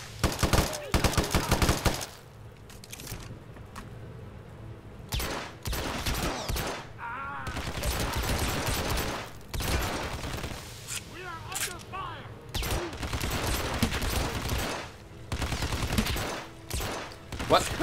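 Gunfire in the stealth game Hitman Absolution on Purist difficulty: loud bursts of automatic fire and rapid single shots in clustered volleys separated by short lulls, with voices talking between and over the shooting.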